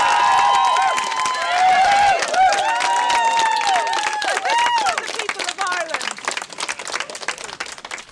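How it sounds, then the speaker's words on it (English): An audience gives a round of applause with loud, dense clapping and cheering, whistles and excited voices rising over it, the clapping thinning into scattered claps near the end. "I think you should give a round of applause."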